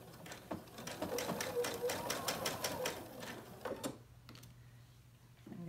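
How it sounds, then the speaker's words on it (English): A home sewing machine stitching layers of fabric together, with a quick run of close, rapid needle clatter lasting a few seconds before stopping, then a faint mechanical hum. "I'm going to sew all the way around."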